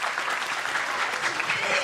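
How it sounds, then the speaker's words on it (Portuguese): An audience claps in a steady, dense burst of applause at a workplace anxiety talk. The clapping is loud and close and holds evenly throughout, with no pause. "Palmas para Elizabeth"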